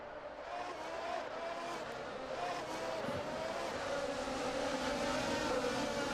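Race cars in an esports racing game weave toward the Parabolica, their engines a steady mid-level drone, with a commentator talking over the sound throughout.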